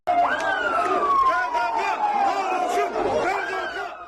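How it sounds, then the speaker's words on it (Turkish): A crowd on residential balconies in Hatay shouts and chants slogans in support of security forces after an explosion. The massed voices are loud and continuous, with a rising, siren-like wail near the start. "evlerinin balkonlarına çıkan halk güvenlik güçlerine alkışlarıyla destek vererek teröre lanet sloganları attı"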